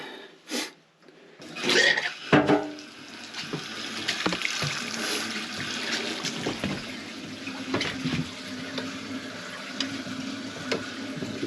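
Hot water running from a cabin sink faucet, a steady close hiss of flow that continues throughout after a few brief knocks and handling sounds at the start.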